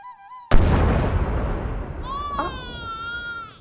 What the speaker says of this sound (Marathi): छोटा शिलेदार तोफेच्या आवाजाने रडतो का